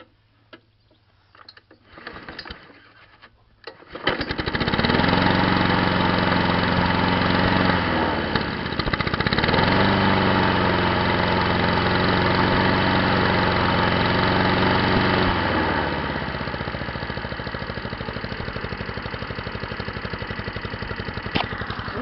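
A new engine on a Honda Izy lawn mower, one with a faulty carburettor, catches after a few pulls and settles into a steady, loud running drone that lasts the rest of the clip and eases slightly toward the end.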